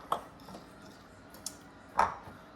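A metal pie pan for a lemon creme pie with graham cracker crust is handled in a kitchen, giving two short clanks about two seconds apart with faint light knocks between them.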